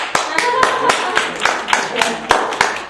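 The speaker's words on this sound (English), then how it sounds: "Now you're supposed to clap." A small audience at a military mementos show-and-share claps sparsely and unevenly, with distinct hand claps close by and a few voices murmuring underneath.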